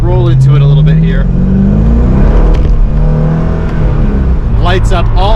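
A Corvette C5 Z06 accelerates on a wet road on grippy tires, its engine rising in pitch through the revs, close and loud, with someone talking over the engine at the start and end.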